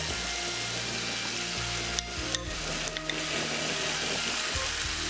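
Yogurt poured into a hot pan with tomatoes sizzles loudly and steadily while being stirred, broken by a few brief scrapes of the spoon, very close.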